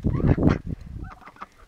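Ducks honking loudly at close range on a small farm, a couple of harsh overlapping calls followed by softer quacks.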